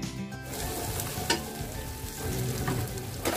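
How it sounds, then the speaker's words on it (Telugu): Ginger garlic paste frying with softened onions and green chillies for chicken dum biryani, a steady dense sizzle with occasional stirring clinks, close and continuous with no talk. "ఇప్పుడు ఉల్లిపాయలు, పచ్చిమిరపకాయలు మగ్గిపోయిన తర్వాత అల్లం వెల్లుల్లి పేస్ట్ వేసి వేయించుకోవాలి పచ్చివాసన పోయేంత వరకు"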